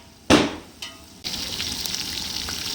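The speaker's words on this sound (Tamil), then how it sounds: "வெங்காயம் நல்லா வணங்கட்டும்" Onions fry for mutton biryani cooked outdoors, a couple of sharp knocks of a stirring spoon against the pot, then a steady hissing sizzle.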